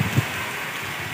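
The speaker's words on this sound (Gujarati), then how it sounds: "હવે લ્યો વરસાદ." Heavy downpour in Bilkha, Junagadh district, Gujarat, flooding the fields: a steady, dense hiss of rain with a couple of low thumps near the start, close and continuous.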